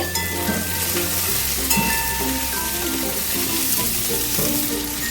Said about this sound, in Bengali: পেঁয়াজগুলোকে একটুখানি কয়েক সেকেন্ড নাড়াচাড়া করব